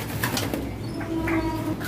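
A caged bird at a bird market behind Pasar Pramuka gives soft, repeated cooing calls, fairly close and steady against a low background murmur.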